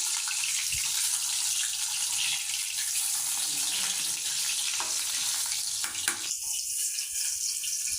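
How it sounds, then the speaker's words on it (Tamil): Fish frying in a pan for a Tamil-style fish dish, a steady broadband sizzle crackling loudly throughout, with a brief clatter partway through and the hiss shifting brighter near the end; no one talks. "மீன் நல்லா பொரிஞ்சு வந்துருச்சு"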